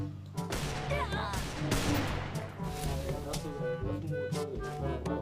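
Gunfire in the mobile battle game Free Fire during a one-on-one match: repeated sharp bursts of shots in quick, irregular succession over a busy game soundtrack.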